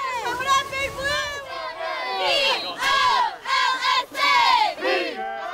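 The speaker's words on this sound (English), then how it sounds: "Bolsa Grande cheerleaders rev up the crowd for their contest with the La Quinta Aztecs." Bolsa Grande cheerleaders and a high school football crowd chant and cheer loudly in rhythmic bursts of shouting voices, close and energetic, ahead of a game against the La Quinta Aztecs.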